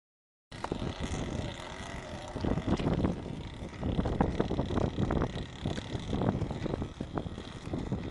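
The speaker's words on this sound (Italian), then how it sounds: "C'è un casino di vento lì." Strong wind buffets a small boat at sea during barracuda fishing, roaring and gusting loudly against the microphone along with rumbling hull and water noise, starting after a brief silence and continuing without letup.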